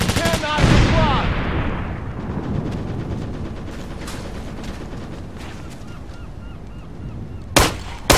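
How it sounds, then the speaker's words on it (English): Bursts of gunfire in Operation Flashpoint: Dragon Rising on Xbox One, a loud rattle early on, then scattered shots and a sharp crack near the end under shouted voices. "Weapons free! Suppressing fire!"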